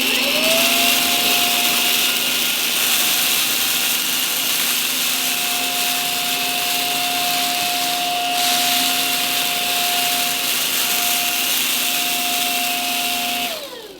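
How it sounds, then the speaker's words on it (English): A Simplicity S65D cordless vacuum cleaner runs on carpet at its regular setting, giving a loud, steady motor whine with a constant airy roar that continues unbroken and then winds down at the end. "But it's a cordless vacuum."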